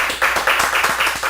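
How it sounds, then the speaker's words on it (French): An audience applauds during a French-language interview, a brief burst of brisk, fairly close clapping with no talk over it. "ça mérite vraiment des applaudissements."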